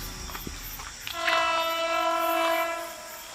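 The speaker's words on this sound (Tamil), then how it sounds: "இந்த ட்ரெயின் சவுண்டு இந்த டைம்ல டக்குன்னு இருக்கு" A train sounds a loud, sustained horn that swells in after a second and holds for about two seconds before fading slightly, over low rumbling rail noise.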